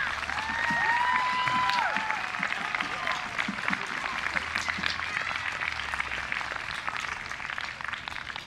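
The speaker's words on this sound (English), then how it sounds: "Please help me welcome them with a round of applause." An audience at an 8th grade class promotion ceremony applauds the students, a steady, moderately distant wash of clapping with a few whoops and murmured voices mixed in.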